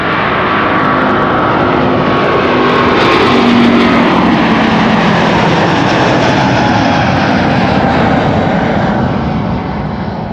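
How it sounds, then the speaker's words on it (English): A Delta Air Lines Airbus A350 at Amsterdam Schiphol roars with loud, sustained jet engine noise that swells and slowly fades over ten seconds, broadband and close, with no voices. "The first A350 of the show, Delta Airlines flight 133 to Detroit, Michigan."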